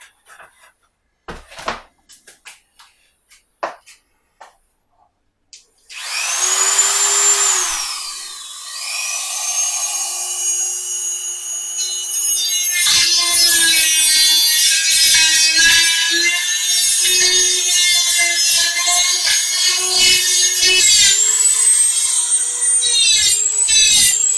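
A Dremel rotary tool sands cut wooden bookshelf boards with a high, continuous whine and gritty grinding that runs for most of the clip, changing in pitch under load, after a few quiet clicks and knocks at the start.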